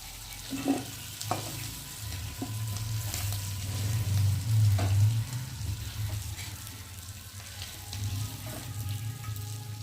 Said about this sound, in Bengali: এখন আমি তেল থেকে চিংড়ি মাছগুলোকে তুলে দেবো